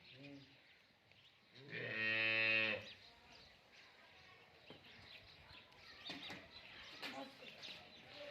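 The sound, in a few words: cow mooing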